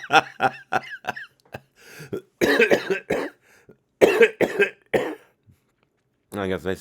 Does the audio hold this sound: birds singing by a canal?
no